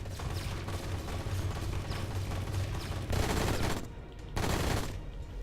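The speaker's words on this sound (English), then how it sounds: "And then all those shots just missed." Dense bursts of gunfire from the video game Left Alive crackle loudly and continuously, like rapid automatic fire with heavier volleys near the end, and no talking over them.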